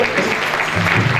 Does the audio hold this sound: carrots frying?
no